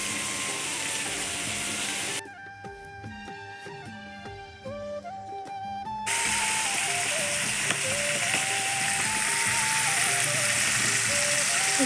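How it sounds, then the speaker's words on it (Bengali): Fish sizzle and spatter in a hot pan with a steady hissing fry, loud and close, while background music plays over and around it. "তো প্রথমে আমি মাছগুলো ভেজে নিলাম"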